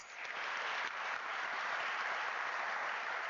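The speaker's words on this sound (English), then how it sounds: "let us give her a round of applause" A large crowd at a university graduation ceremony applauds in a steady, even roar of clapping that fills the hall from start to finish, heard from some distance and without a break.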